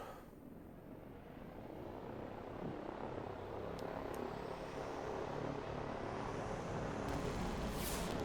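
Steady rotor and engine rumble of helicopters hovering nearby in the real-time strategy game RTS Line War, a continuous low drone with faint higher whines, no talking.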